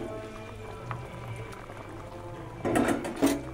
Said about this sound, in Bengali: এখানে ডিমের ঝোল ফুটে গেছে,